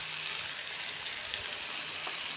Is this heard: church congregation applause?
no